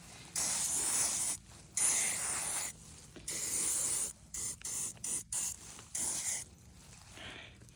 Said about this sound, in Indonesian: Gampang semprot aja.